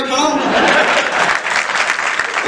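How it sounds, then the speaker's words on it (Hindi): Audience at a Hindi poetry comedy show (kavi sammelan) breaks into loud, dense applause, a steady wash of clapping that fills the clip and tapers slightly at the end. "भाई साहब तालियां तो अब आएंगी।"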